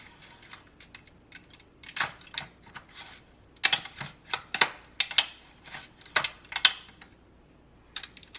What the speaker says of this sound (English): Go ahead and roll your dial, and you can start hearing it pull.